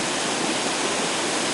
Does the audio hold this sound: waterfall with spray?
yes